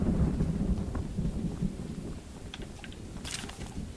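Thunderstorm in the horror video game Choo-Choo Charles, a low continuous rumble of thunder under rain and wind, easing slightly toward the end with a few crisp patters and crackles near the close.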